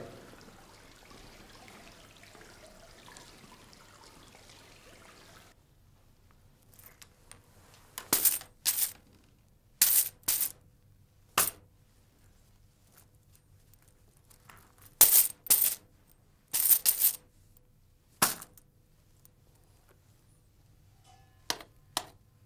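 Coins drop and clink in scattered bright bursts, some in quick pairs, fairly close in a quiet room after a soft hiss of background noise, with no talking.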